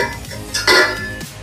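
Spoon scraping and clinking in a cooking pan while mixing potato, brinjal and meal maker curry, a close, short burst of metallic stirring with a louder scrape midway.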